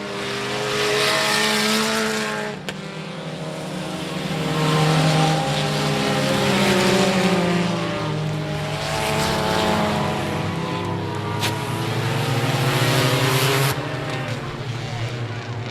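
A race car at I-37 Speedway roars past with a loud sustained engine note that rises and falls as it circles the track, heard from trackside under a faint announcer voice.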